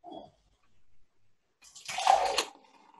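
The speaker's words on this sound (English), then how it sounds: "pour your mix into your bowl or measuring jug" Oat mix poured into a measuring jug: one close, splashy pour of about a second after a quiet pause, with faint handling sounds before it.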